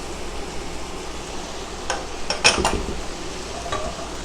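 Onion stirred into a hot frying pan for garlic mushrooms, giving a soft steady sizzle with a few brief scraping stirs in the middle, fairly quiet and with no talk.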